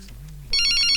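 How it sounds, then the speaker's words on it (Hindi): A telephone rings with a bright electronic trill that starts abruptly after half a second of quiet and continues steadily. "फोन आया।"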